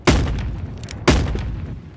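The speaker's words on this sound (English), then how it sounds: "these shots hit like crazy" Two loud, booming gunshots in the video game Animal Company, spaced about a second apart, each with a sharp attack and a long rumbling decay.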